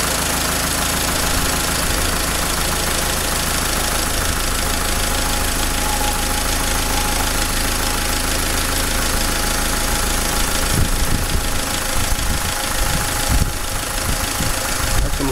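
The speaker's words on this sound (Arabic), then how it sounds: "الموتور قاعد يتغير صوته من احسن الى احسن" Dacia Logan dCi diesel engine idling, a continuous clattering rumble heard close up and fairly loud, steady for most of the stretch with some rougher knocking toward the end.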